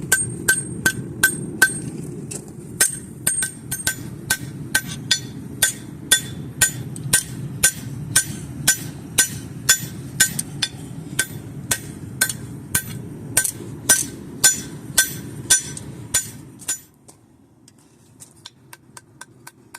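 A blacksmith hammers a knife blade of steel heated to about 2,000 degrees, with a long run of sharp, ringing metallic strikes in a quick, steady rhythm, close and loud, stopping abruptly near the end.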